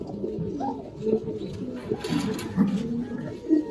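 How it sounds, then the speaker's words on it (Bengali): A pair of army-breed pigeons coo close by in a loft, low throaty rolling calls that rise and fall in repeated bursts, with faint voices in the background. "এই যে একজোড়া আর্মি কবুতর দেখাই"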